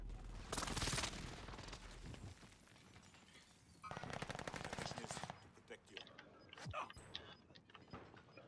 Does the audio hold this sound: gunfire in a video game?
yes